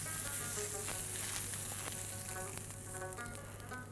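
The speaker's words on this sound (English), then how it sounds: "So you just stir fry for 2 to 3 minutes" Food stir-fried with red Cajun spices sizzles steadily in a hot pan, a constant bright crackling hiss with occasional stirring taps, close and continuous.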